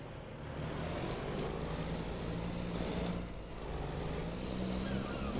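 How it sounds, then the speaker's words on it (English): A loud truck engine drones steadily in the farming game Farming Simulator 25, a constant heavy rumble with a low tonal hum that dips briefly and then resumes. "Just such a loud truck, it really is."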